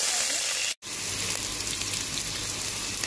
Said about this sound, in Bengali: তেল গরম হয়ে গেছে, এখন আমি আলুগুলো ভেজে নেব।